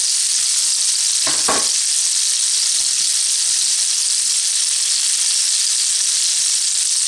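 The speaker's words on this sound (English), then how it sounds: "Cast iron pan with bacon grease in it" Bacon-wrapped chicken frying in a cast iron pan of bacon grease gives a loud, steady, bright sizzle throughout, broken by a brief pair of scraping knocks early on.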